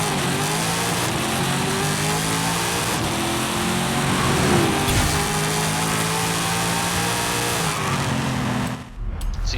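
Car engine in Forza Horizon 5 holding a high, steady rev with droning harmonics, loud and close for most of the stretch before dropping off abruptly near the end; no talking.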